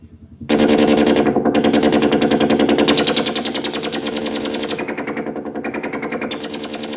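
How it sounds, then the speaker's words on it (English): A Malekko Vactrol filter synthesizer module produces a loud, rapid pulsing buzz, like a stuttering machine-gun rhythm, that starts abruptly and keeps chattering while its tone brightens and darkens in steps. "So it's a Vactral also. It has a really nice smooth sound"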